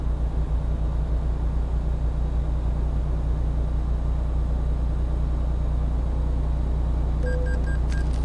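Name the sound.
truck engine running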